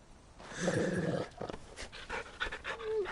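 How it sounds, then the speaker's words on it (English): Dog companion in the video game Final Fantasy 16 panting in quick, breathy bursts, close and fairly soft, with a few short whines toward the end and no speech. "I meant my trusty dog, Torgal over here."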